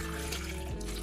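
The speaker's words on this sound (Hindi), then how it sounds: "पानी डालूंगी इसमें" Water pours into a pan holding taro (arvi) pieces and turmeric, a continuous close splashing rush that fills the whole moment, fairly loud and steady.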